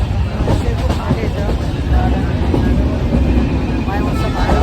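Steady, loud rumble and rattle of a train running on rails, heard from inside a carriage on a ride toward Badlapur. It is continuous and broadband throughout, with no clear talk over it.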